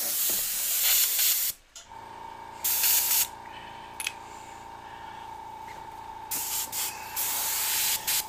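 Airbrush spraying plain air in short bursts: a soft hiss starts and stops several times over a steady low tonal hum, with no voices.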